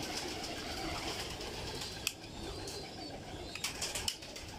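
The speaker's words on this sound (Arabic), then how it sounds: "غطيت الحمام الباكستاني." Pakistani pigeons in a loft coo faintly under a steady hiss, with several brief wing flaps and soft knocks near the end.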